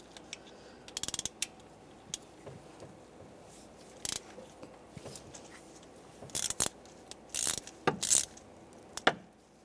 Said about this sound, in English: Using a 13mm socket, take the bolt off for the idler pulley.